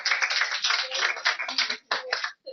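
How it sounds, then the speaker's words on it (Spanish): A small group of classmates in a workshop session claps for a few seconds, a close, crisp patter that thins out and stops abruptly. "Un aplauso, compañeros"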